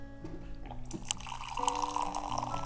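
Pressing the pump of a Milton beverage dispenser flask releases hot water that trickles and splashes softly, then settles into a steadier pour near the end.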